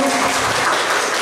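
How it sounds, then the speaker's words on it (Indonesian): A crowd at a neighbourhood cooking competition for an Independence Day celebration applauds loudly in a dense, continuous wash of clapping, close and filling the moment without speech. "tepuk tangan lagi dong Bu, biar lebih."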